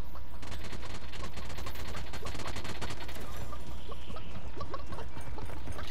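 Loud, rapid automatic fire from a video game gun, a long rattling stream of closely spaced shots that runs for most of the stretch, with a few faint words of talk.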